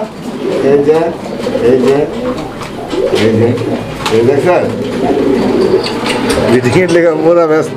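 Many pigeons coo steadily and close by at a busy pigeon market where fancy pigeons are sold, their calls rising and falling under continuous talk from people nearby.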